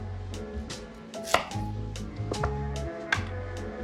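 A knife slices down through chicken on a cutting board, with several sharp, close knocks against the board spread over a few seconds, and kitchen background noise running throughout.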